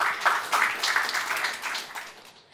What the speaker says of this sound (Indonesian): Kita berikan tepuk tangan bersama.